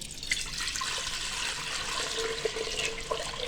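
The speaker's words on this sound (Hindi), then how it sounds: "सबसे पहले हम प्रेशर को रखेंगे चूल्हे पे, इसमें पानी शामिल करेंगे।" Water pouring steadily into a pressure cooker set on a stovetop, a continuous close splashing rush that runs the whole time with a few faint drips near the end.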